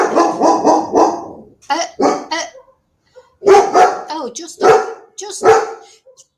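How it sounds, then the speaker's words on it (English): A dog barks outside in repeated loud bursts and yips, with a second dog inside joining in, while someone talks over and between the barks. "a dog starts barking outside"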